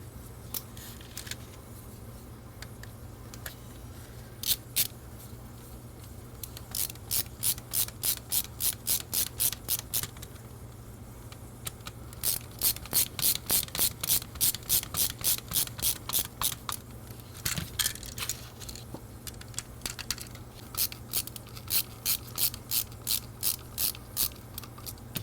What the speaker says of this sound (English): Add the screws back.